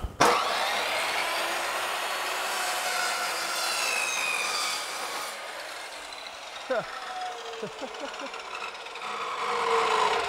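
A metal cutting saw grinds through a nail, a continuous harsh rasping and whirring that is loud at first, then eases as a few brief chirps and scrapes come through near the end.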